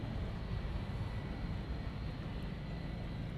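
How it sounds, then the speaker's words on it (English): Hawaiian Airlines Boeing 757 arriving at Honolulu airport, a steady broadband jet rumble heard from a distance with no break. "Next one coming in is a Hawaiian 757."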